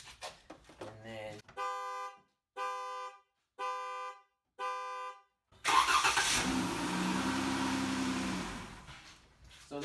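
A 2008 Dodge Magnum gives four evenly spaced warning chimes, then the engine cranks and catches with a key start and settles into a loud, steady idle close by.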